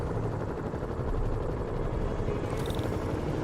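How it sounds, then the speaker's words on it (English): Helicopters in Spider-Man Remastered on PC produce a steady, loud rotor drone that fills the scene, with a brief brighter whine near the end. "Bet I can use those helicopters to swing."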